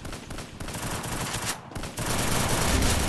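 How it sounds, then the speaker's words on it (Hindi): Dense rapid gunfire in a mobile squad shooter game, continuous bursts of shots filling the short stretch at a loud, close level. "एक गोली मार, एक गोली, एक गोली"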